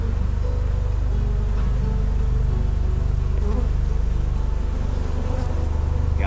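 Honey bees from a swarm in a tree drone in a dense, steady buzz, loud and close all around, with many wingbeats merging into one continuous hum.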